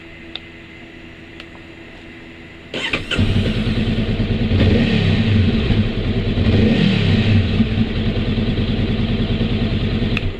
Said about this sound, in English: let me let you hear it with the stock exhaust from Honda